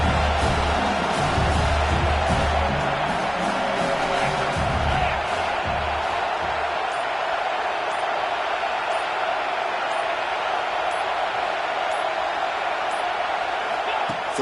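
Stadium crowd at a college football game, a broad roar of cheering that swells early and then settles into a sustained wash of noise, with a commentator talking over it.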